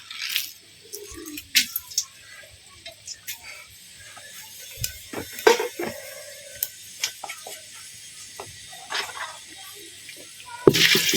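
Whole spices (cloves, cardamom, cinnamon, bay leaf, cumin) frying with sugar in a pot for chicken biryani, a soft steady sizzle with occasional scrapes and knocks of a stirring spoon, fairly quiet throughout.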